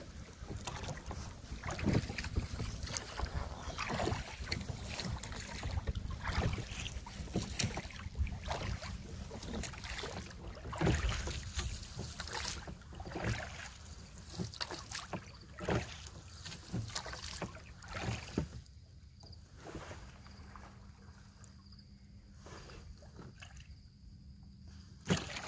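Steady splashing and sloshing of oars rowing a Drascombe Lugger boat through water near Halfmoon Bay, with wind buffeting the microphone; the rowing strokes quiet down near the end.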